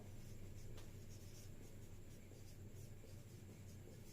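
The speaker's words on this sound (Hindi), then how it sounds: "ये मैं यहां लिख देता हूं" Marker or chalk writing on a board during a classroom lecture on the human digestive system, a steady low scratching rub running continuously with no talk over it.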